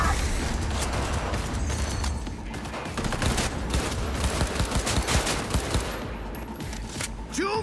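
Rapid bursts of gunfire from a weapon in Cyberpunk 2077 crackle through the whole stretch, dense overlapping shots with mechanical clatter, loud and close, with no talk over them.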